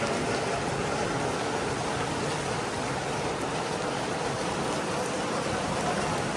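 Heavy rain pours down in a constant, loud, dense hiss of drops striking surfaces, unbroken for the whole stretch with no voices.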